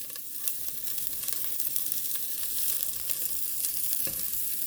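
Onions sizzle in a hot pan, a dense, continuous crackle that holds steady and close, with a few faint stirring knocks and no talking.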